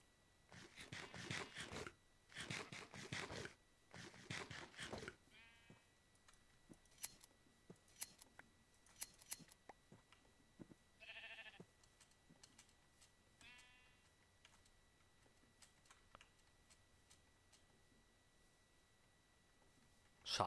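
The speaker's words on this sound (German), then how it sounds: "Schafe sind hier gerade viel." Sheep bleating in Minecraft, several short, quiet bleats scattered among faint clicks and footsteps, with brief talk near the start.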